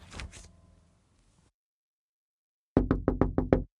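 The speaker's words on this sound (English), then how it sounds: "I'm awoken from a deep sleep by a knock on my door" Knocking on a bedroom door, six quick sharp raps in a tight burst, close and loud after a stretch of near silence.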